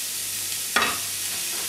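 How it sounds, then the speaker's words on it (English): Nearly a pound of ground beef dropped into a hot pan for cheeseburger soup, giving one brief burst of sizzle that fades quickly into a low, steady frying hiss with no talking. "let's cook this almost pound of ground beef. Put it in the pan without breaking it too much."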